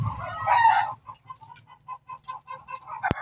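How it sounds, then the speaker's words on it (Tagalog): Nearby chickens cluck in short, repeated bursts after a louder opening call, with a sharp knock near the end. "Saba ba sa mga manok ah."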